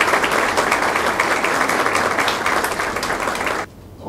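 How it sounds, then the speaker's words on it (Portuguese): Audience applause at a Fátima celebration for Frei Paulo, a dense, steady clapping from a crowd that stops abruptly near the end. "Peço as palmas aqui para o Frei Paulo."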